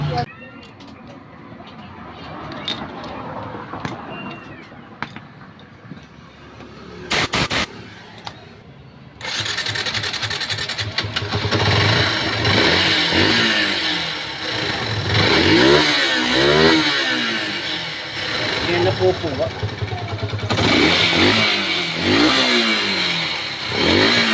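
A motorcycle engine that misfires when the throttle is opened idles and revs unevenly with a rattling, clattering mechanical note, loud and close, after a few seconds of quieter handling noise.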